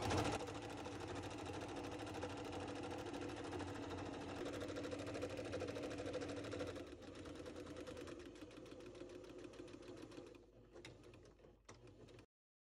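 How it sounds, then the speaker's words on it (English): A sewing machine zigzag-stitches along the edge of a pillow cover with a steady, close mechanical whirr and rapid needle chatter that slows and breaks up near the end before stopping. "I'm going to do a narrow zigzag along the edge to catch those threads."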